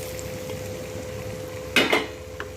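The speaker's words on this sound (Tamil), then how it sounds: "தக்காளி நல்லா வதங்குற வரைக்கும் இப்படி கிளறி எடுக்கலாம்." Tomatoes frying with chilli powder and salt hiss quietly and steadily in a pan, broken by two quick scraping strokes of stirring near the end.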